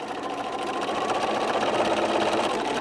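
A sewing machine stitches fabric for an oven mitt, a steady, close mechanical whir with a fast even rhythm running without pause.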